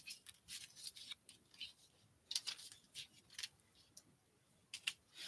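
Scissors cut paper for a craft project in a series of crisp, close snips, some quick and clustered and others spaced apart, with brief quiet pauses between them.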